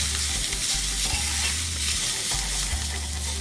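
Ginger and garlic fry in a pan over lowered heat, giving a steady close sizzle with a low rumble and occasional stirring scrapes, and no talking.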